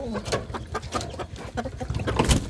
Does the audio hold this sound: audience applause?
no